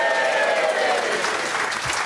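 A live audience at the Bet365 Stadium fans forum claps, with dense, steady applause filling the room throughout at close range.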